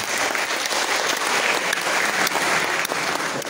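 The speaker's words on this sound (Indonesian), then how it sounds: "Tepuk tangan untuk kita semua." An audience claps at a basic leadership training session for a university law faculty's student executive board in Merauke, giving sustained, dense applause with a few sharper individual claps standing out.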